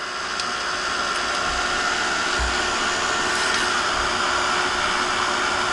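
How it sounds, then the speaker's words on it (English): A Ranger craft heat tool blowing hot air like a hairdryer, a steady close whooshing drone with a faint high whine that runs unbroken throughout. "This little heat tool looks like a hairdryer."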